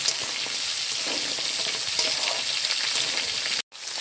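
Washed vegetables stir-fried with spice paste in a pan, a loud close sizzle with scraping stirs, briefly cut off near the end before resuming.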